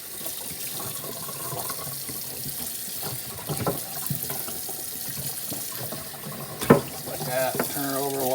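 Tap water runs steadily over a plucked bird being rinsed in a sink, splashing and trickling close by, with brief louder gushes near the end and occasional soft talk underneath.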